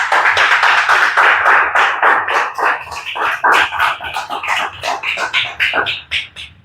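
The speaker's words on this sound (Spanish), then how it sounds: "Dale un aplauso al Señor Jesús" A church congregation claps for Jesus, loud and close at first, then thinning into uneven, scattered handclaps that fade out toward the end.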